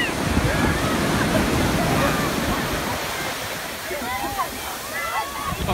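Waves breaking and washing on a beach during a Boxing Day swim, a steady close wash of surf and water with faint chatter from the crowd.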